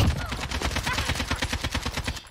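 Rapid automatic gunfire in Call of Duty Warzone, a fast even burst of loud close shots rattling continuously for about two seconds.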